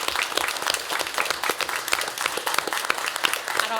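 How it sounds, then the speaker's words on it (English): Steady, dense applause from a school board meeting audience honoring the district's school officers, continuous and fairly close for its whole length with no talking over it. "Can we have a round of applause?"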